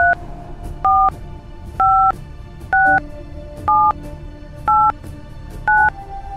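A phone number being dialed as a string of seven evenly spaced touch-tone beeps, each a clear two-tone chirp, loud and close over a faint steady hiss.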